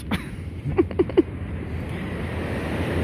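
Steady surf and wind roar on a Norfolk beach, close and continuous, with a few faint short tonal chirps early on.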